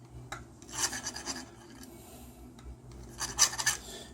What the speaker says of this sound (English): Use your file and go in and chase all the holes.